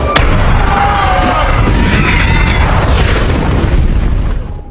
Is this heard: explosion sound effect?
yes